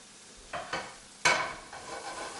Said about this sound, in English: Now let's get our onions. We're going to caramelize.